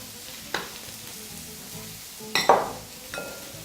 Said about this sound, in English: proceed to just cooking them on the pan